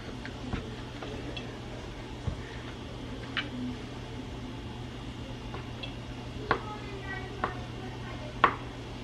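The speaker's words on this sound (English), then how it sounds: "we're going to make some croutons. So I'm just going to cut it into little cubes." Knife cutting bread into small cubes for croutons in a home kitchen, a few sharp, sparse chops against a quiet steady background hum, with light clicks between cuts.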